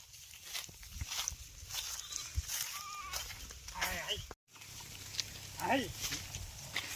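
Sheep grazing in an outdoor chickpea field, with several bleats rising near the middle and end amid rustling and footsteps, while people talk throughout.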